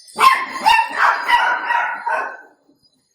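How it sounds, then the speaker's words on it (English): A few dogs bark in several short, loud bursts close by, then stop, leaving a brief quiet stretch at the end. "That's my dogs."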